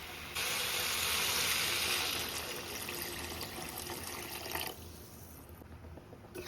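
Hot water pours into a pot of desi chicken curry with potatoes, a loud rushing splash that fills the first few seconds, then eases into quieter bubbling and clinks without any talking.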